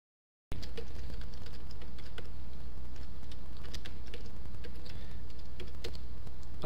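Steady typing on a computer keyboard while entering an administrator username, a close, continuous patter of quick key clicks with no talk.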